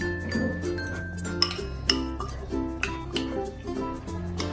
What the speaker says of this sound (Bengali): আমি একটু চামচে করে ভালো করে চিংড়ির গাগুলোকে একটু মাখিয়ে নিয়ে